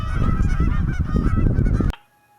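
A flock of geese honks loudly and continuously on cold winter water, dense overlapping calls filling about two seconds before cutting off abruptly to near silence.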